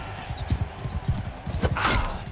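Horse galloping in a medieval kingdom battle video game, rhythmic clip-clopping hooves in quick repeated beats, moderately loud with a faint whoosh near the end.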